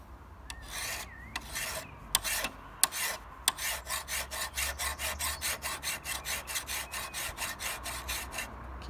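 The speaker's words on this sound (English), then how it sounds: "Now you can do it with just a standard file." A standard hand file rasps across the bevel of a clamped rotary lawn mower blade in rapid, even strokes. The strokes start out irregular and settle into a steady rhythm, close and moderately loud.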